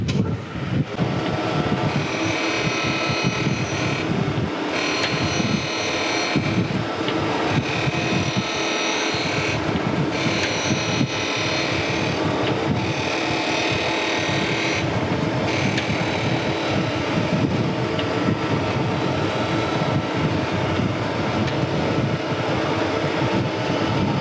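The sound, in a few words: grinding down a vise during restoration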